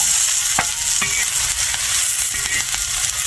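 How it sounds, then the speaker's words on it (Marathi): Peanuts stirred and roasting in hot oil for a quick chutney, a loud continuous sizzle up close with a few sharp scrapes of the spoon against the pan. "आता हे शेंगदाणे टाकीते बघा शेंगदाणे टाकले आता आता भाजायचं"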